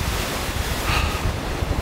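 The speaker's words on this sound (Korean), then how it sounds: "오늘은 바람 소리가 엄청납니다" Strong winter wind on a snowy mountain ridge roars in a continuous, rushing wash of noise, buffeting the microphone with gusty low rumbles.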